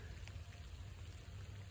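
Rain falling outdoors at a fox and coyote trap set: a brief, faint, even hiss of steady rainfall with no voices.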